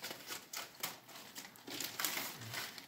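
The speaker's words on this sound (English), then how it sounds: "So I'm going to cut my bag." Scissors snipping through a plastic bag, a string of quiet crinkly cuts and rustles in an uneven rhythm, close and faint, with no talking.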